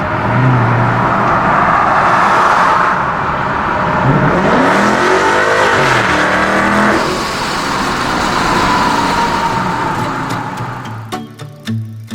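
A car engine pulled hard while driving home in stop-and-go traffic, loud and close, the revs rising and falling in a drawn-out sweep over road noise before easing off, with clicking at the end.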